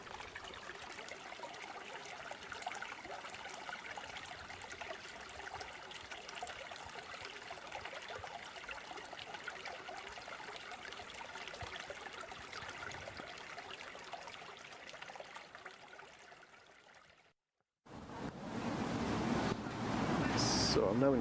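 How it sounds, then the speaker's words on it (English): A small brook, a little burn in the woods, trickles as someone crosses it, a faint steady water sound with rustling that breaks off briefly and then comes back louder and closer. "So here's a little brook, a wee burn that I'm just going over"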